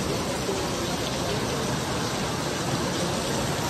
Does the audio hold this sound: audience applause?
no